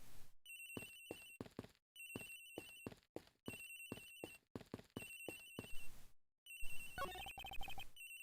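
A cell phone rings with a soft lullaby ringtone in the Ace Attorney Investigations video game, a repeating bell-like tune in short bursts followed by a brighter, busier melodic phrase near the end, with no talking.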